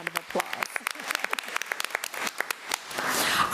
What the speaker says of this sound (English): Let's give his parents a round of applause.